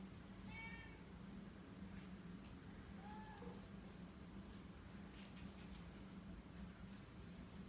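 A cat cries indoors during wreath-making, with two faint meows, one near the start and another about midway, distant and soft over a constant low hum and faint crackling, with no talk.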